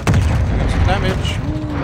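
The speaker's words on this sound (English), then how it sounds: "Thank Christ for air support." Air support strikes in the Call of Duty Modern Warfare 2 campaign: loud, continuous low rumbling booms and blasts throughout, with overlapping battlefield noise and a voice talking over it.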